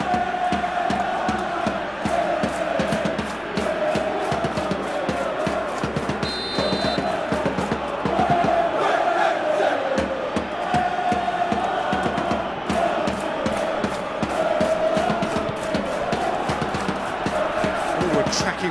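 Stadium crowd noise from the football video game eFootball PES 2021 during a PSG vs Manchester City Champions League final, a steady loud roar with chants and swells running throughout.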